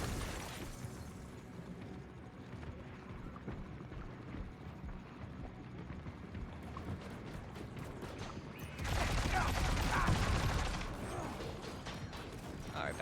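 Grenade launcher blasts and mechanical clatter in Death Stranding 2 combat, scattered thuds and creaks building to a loud, broad explosive burst near the end that fades after a couple of seconds.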